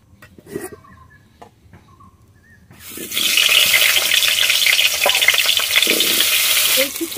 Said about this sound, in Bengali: তেল দিচ্ছি, আলুগুলো ভেজে নেবো।